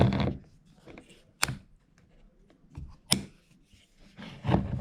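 Soft rustling and handling noises, broken by two sharp clicks as a fabric-covered metal Batarang case snaps shut on a hidden magnet.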